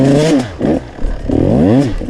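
An enduro motorcycle revs hard in repeated bursts on a muddy forest trail, its pitch sweeping up and down, loud and close with some clattering underneath.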